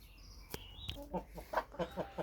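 Chickens cluck in short, quiet bursts nearby, a series of soft rhythmic clucks after a couple of sharp knocks, with no talking.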